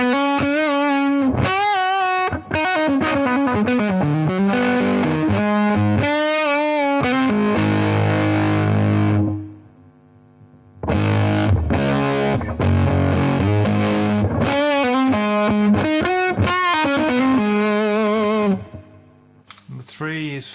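Electric guitar played through a Zander Circuitry American Geek distortion pedal, gritty and high-gain, chords and single notes ringing out with a fuzzy, noisy edge and brief pauses between phrases.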